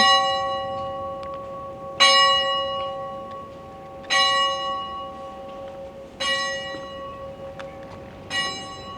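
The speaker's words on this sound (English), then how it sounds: "So the bells are ringing" A church bell in Syros, Greece tolls four times at steady two-second intervals at eleven o'clock, each strike ringing out and slowly decaying over a faint outdoor hum.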